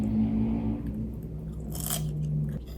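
A hard, crunchy peach is bitten once nearby, a short crisp snap followed by faint chewing over a low steady hum, with no talking.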